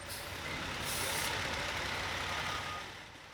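Heavy trucks haul coal waste from a mine reclamation site. A steady diesel engine rumble and broad road noise swell and fade, with a brief air-brake-like hiss near the start and again about a second in.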